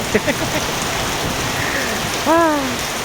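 Heavy rain pours down steadily at a garage, a dense constant hiss throughout, with a brief engine or horn-like tone rising near the end.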